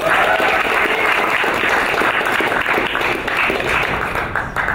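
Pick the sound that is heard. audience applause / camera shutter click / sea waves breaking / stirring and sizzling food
audience applause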